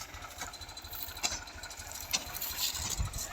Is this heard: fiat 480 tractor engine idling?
yes